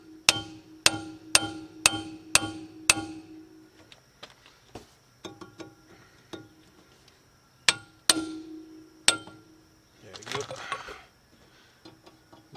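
A hammer whacks an impact screwdriver on the front brakes of a 1996–2000 Honda Civic, with six sharp metallic strikes in quick even succession and then a few louder scattered hits amid lighter clinks and shuffling.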